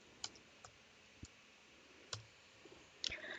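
Light, sparse clicks from keys on a computer keyboard as a school name is typed into an online sign-up form, a few quiet separate taps spaced irregularly in a quiet room.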